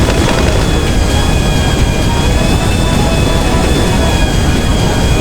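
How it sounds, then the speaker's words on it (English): A Volatol jet bomber in GTA 5 Online takes off, its engines producing a loud, steady roar with a whining tone that holds throughout without letup. "The plane doesn't lift really easily."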